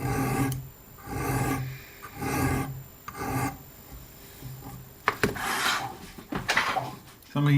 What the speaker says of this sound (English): Take the file and you put a corner break on here